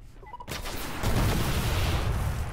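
The Truth rocket launcher fires in Destiny during a Trials of Osiris match on Burning Shrine. A sharp blast is followed by a loud, sustained rumbling boom that fills the space.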